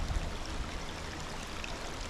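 A creek running through forest at Hickory Run State Park, a soft continuous burble and rush of flowing water, moderately faint and steady, with no voices.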